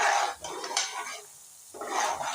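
Semolina being dry-roasted and stirred in a pan over a low flame for sweet milk halwa, heard as soft scraping and rustling strokes with a brief quieter pause partway through.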